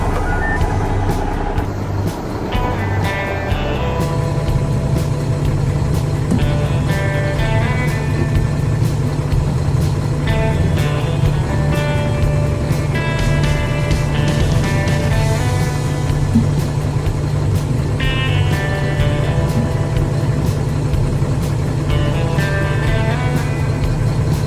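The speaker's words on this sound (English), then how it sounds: "I am turning the truck on now before I check the tire pressure" Big rig truck idling after start-up, a steady low engine rumble running the whole time with a repeating electronic beep over it.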